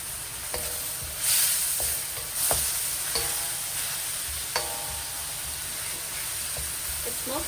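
Pasta stir-frying in a hot pan gives off a steady, bright sizzle, with a few scraping utensil clicks scattered through it and a louder burst of hiss near the start.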